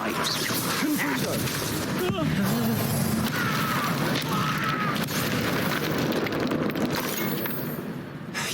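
A Confringo blasting spell goes off in Hogwarts Legacy on PC, a booming fiery explosion within a loud, continuous battle soundscape of crashes and game effects.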